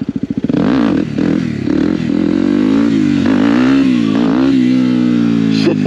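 A motorcycle revs hard in a wheelie run, its engine roaring loud and close with a rising, wavering pitch throughout the stretch and a brief rattle near the end, with no talking.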